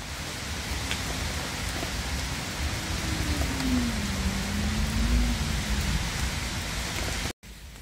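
Steady rain pours down outside a house, a dense, even hiss that holds at the same level throughout before cutting off briefly near the end, with no voices.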